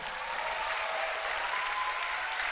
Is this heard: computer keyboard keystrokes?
no